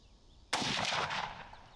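A single loud rifle gunshot fired outdoors at a range, a sharp crack followed by a ringing report that fades over about a second.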